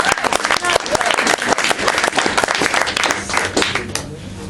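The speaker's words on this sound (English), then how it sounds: "everyone give a round of applause for the judges because they're doing so well." A poetry slam crowd applauds the judges with loud, dense clapping and cheering that carries on steadily before tapering slightly at the end.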